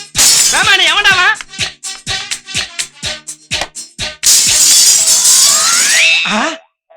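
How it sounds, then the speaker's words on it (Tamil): A window pane shatters in a Tamil film scene: a loud burst of breaking glass is followed by a rapid series of sharp crashes and tinkling shards, with voices crying out over them. "தங்க மாதிரி இந்த ஜன்னல் உடைஞ்சிடுச்சே."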